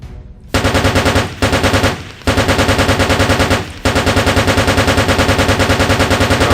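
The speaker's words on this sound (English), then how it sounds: "now we're really cutting through his shields with that machine gun" Loud sustained machine gun fire from a video game, rapid rattling bursts broken by three short pauses and otherwise nearly continuous.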